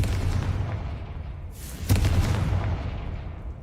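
Fiery blast from the Confringo spell in Hogwarts Legacy, a single sharp burst near the middle rising out of steady game background noise, with the rumble carrying on afterward.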